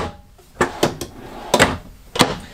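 A large drawer in the second washroom of a 2021 Highland Ridge Open Range 338BHS travel trailer is worked open and shut, giving several close, sharp sliding thumps spaced unevenly.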